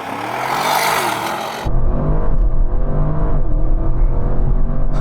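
An Audi RS accelerating hard on a quarter-mile run, a loud close engine roar that steps up sharply after a brief gear change and holds a strong rising drone.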